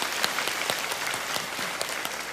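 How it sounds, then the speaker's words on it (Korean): A church congregation at a dawn revival service claps in a short, steady burst of applause, many hands together with no talk over it. "하나님께 영광의 박수 드리겠습니다"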